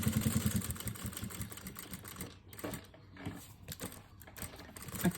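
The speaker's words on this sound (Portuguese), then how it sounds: "Aí, você vai passar uma costurinha aqui pra ficar bem bonitinho e toda a volta." Sewing machine stitching around the edge of a fabric lining for a small Easter cosmetic pouch, running in steady mechanical bursts with short pauses between runs.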